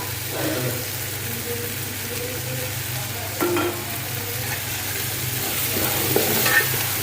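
Potatoes and tomatoes frying with turmeric paste and roasted cumin powder for khichuri make a steady, close sizzle, with occasional stirring scrapes through the whole stretch and no voices.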